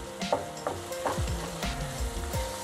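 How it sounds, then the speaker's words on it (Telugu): Tomatoes cooking in a pan for Telugu-style poha kichidi, sizzling steadily with crackles and a few wooden stirring scrapes and clacks, close and moderately loud, no talking. "ఇప్పుడు 2 మినిట్స్ తర్వాత చూస్తే ఇప్పుడు టమాటాలు మగ్గిపోయాయి."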